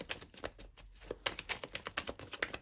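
Tarot cards being shuffled by hand, a quick run of soft papery riffles and taps repeating close up for a few seconds with no voice.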